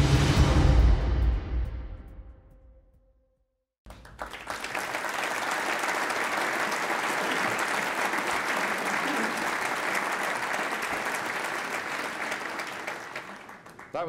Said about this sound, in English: That was a great applause